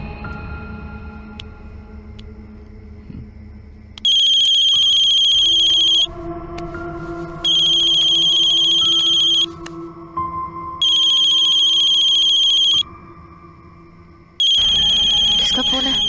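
A phone ringtone goes off loud and bright in four regular bursts of about two seconds each, separated by short pauses, over a dramatic background score.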